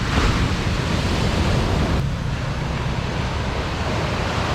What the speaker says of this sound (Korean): 파도 진짜 높아, 그지?